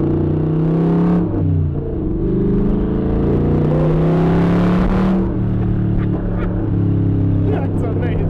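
A custom pro-touring 1967 Camaro V8 rumbles loud and close with revs that rise and fall, a deep throaty drone filling the whole stretch while people talk excitedly over it.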